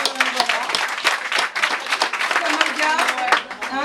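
A crowd applauding at a women's day campaign gathering for a legislative election candidate, a dense, loud burst of clapping that carries steadily throughout, with voices heard alongside it.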